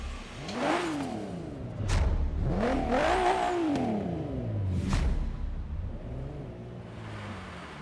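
A Porsche Macan SUV engine in Forza Horizon 3 starts and revs repeatedly, rising and falling in pitch across several loud, close throttle blips with a steady idle between them.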